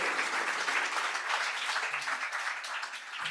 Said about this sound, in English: Can we give them a round of applause for making it this far in the process?